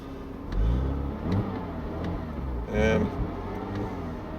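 An engine revs and accelerates in an Audi Allroad versus Porsche Boxster drag race, a mid-pitched roar swelling twice, close, with a brief word spoken over it.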